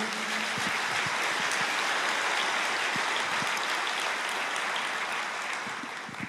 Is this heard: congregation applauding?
yes